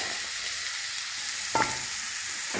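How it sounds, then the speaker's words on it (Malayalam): Onions and green chillies tipped into hot oil for a fish dish, sizzling in a steady, quiet fry with a brief stir clatter partway through; no talking. "നമുക്ക് ഉള്ളി ഇട്ട് കൊടുക്കാം കേട്ടോ."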